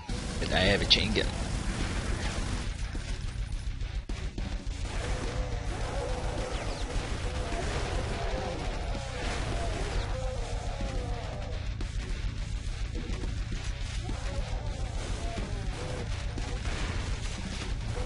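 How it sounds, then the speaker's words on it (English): Chain gun firing in the video game Brutal Doom, rapid sustained gunfire with explosions and crashes filling the whole stretch, mixed under game sounds. "So many gunfire, and I have a chain gun."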